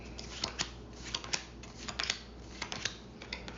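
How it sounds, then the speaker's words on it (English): A deck of cards shuffled by hand, a quick run of crisp riffling snaps and shuffles, close and alone, lasting a few seconds. "And then you'll take the second deck and shuffle it. So I shuffle them."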